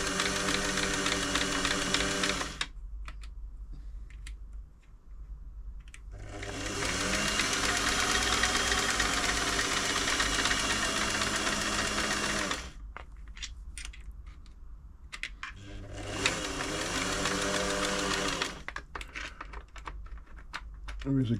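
A Singer 348 sewing machine runs freshly oiled in two sustained bursts of steady, fast mechanical chatter, separated by quieter pauses filled with fainter clicking and handling noise.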